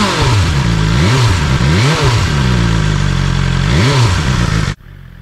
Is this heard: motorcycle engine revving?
yes